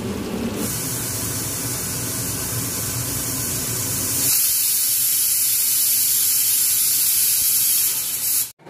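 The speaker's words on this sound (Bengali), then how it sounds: "তো কুকারে এসে গেল সিটি" A pressure cooker cooking khichuri vents its whistle as a loud, continuous steam hiss that sharpens and grows brighter halfway through, then cuts off abruptly at the end; no voices.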